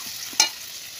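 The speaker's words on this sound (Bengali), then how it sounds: "চলো আলুটা ভেজে নিই" Potatoes frying in a pan give a steady, close hiss, with one sharp, louder burst of sizzle partway through. No one speaks.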